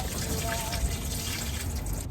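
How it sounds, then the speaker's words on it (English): Engine coolant draining from a car's lower water pump hose, a steady close trickle and patter of fluid running out without pause. "Now we're going to get a lot more fluid out when we take off the lower hose."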